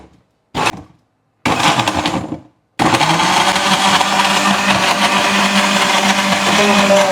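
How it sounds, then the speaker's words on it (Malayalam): A mixie blender whirs through milk and frozen fruit for a shake, starting with two short bursts before a loud continuous grinding run. "ഇനി മിക്സി ഓൺ ചെയ്യാം അല്ലേ."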